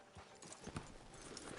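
In the video game Red Dead Redemption 2, horse hooves clip-clop on the ground in a quick, uneven rhythm, faint and a little distant.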